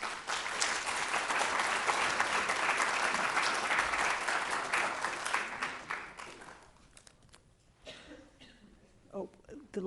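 Audience applause greeting a speaker at an evening lecture on Francisco Goya drawings, a steady, dense clapping crowd for about six seconds that then thins and fades, followed by a few scattered claps and faint murmuring.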